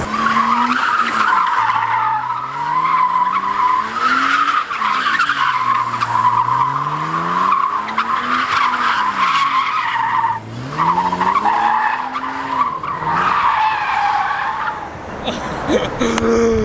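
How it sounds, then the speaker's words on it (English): Tires squeal long and loud as a BMW E36 M3 drifts, rising and falling in sustained screeching sweeps over engine roar, ending with a short burst. "this car, it's really easy to drift"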